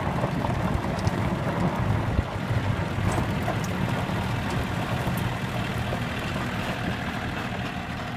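A tractor engine runs steadily nearby, a continuous low rumbling drone with a faint rattle, holding an even pace without revving.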